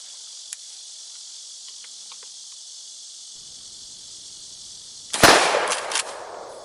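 A KelTec KSG 12-gauge pump shotgun fitted with a .68 choke fires one loud, sharp blast outdoors after a few seconds of quiet insect buzzing, followed by a short fading echo.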